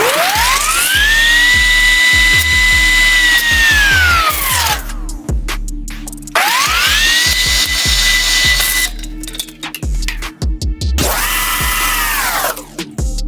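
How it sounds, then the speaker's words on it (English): A flap wheel on an angle grinder roughs out a steel engine mount for a 13B rotary swap into an Altezza IS300, whining loudly in three long passes, pitch rising as it spins up and falling as it winds down. "Roughed it out there with the old flapper wheel"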